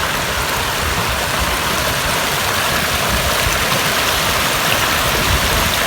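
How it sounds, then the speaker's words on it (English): Floodwater rushes over a driveway after a flood, a steady, loud, broadband wash of flowing water that fills the whole stretch without pause or voices. "the water flows right over top of the driveway."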